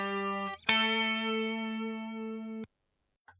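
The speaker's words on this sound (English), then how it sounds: "chorus also tends to smooth things out on the top end." A clean electric guitar tone run through a chorus effect on TH3 amp software sustains a bright held chord after one note changes, then cuts off abruptly, with a brief pick noise at the end.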